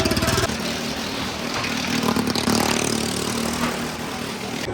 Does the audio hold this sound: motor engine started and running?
yes